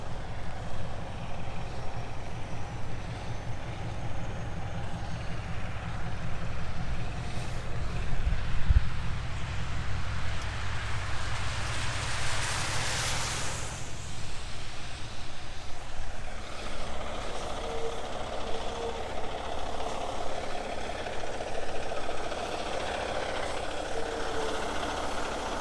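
A 2018 Peterbilt 389 truck engine idling, a low steady diesel rumble held for the whole stretch, with a passing whoosh midway and light background noise.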